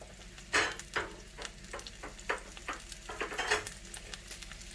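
Parsley is stirred in a frying pan with a wooden spoon, a run of soft knocks and scrapes over a low sizzle, close and fairly quiet, with no speech.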